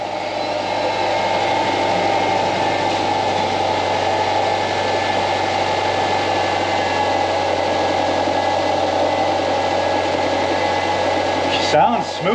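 A Subaru Forester's reinstalled EJ25 engine idles smoothly and steadily, a continuous even hum heard close up, with a brief clatter near the end.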